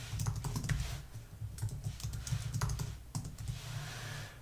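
Quick, light keystrokes patter on a computer keyboard in uneven bursts with short pauses, close and fairly quiet.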